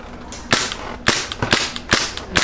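Glock 17 Custom gas airsoft pistol test firing on light gas, five sharp, close snapping shots spaced about half a second apart with no talking.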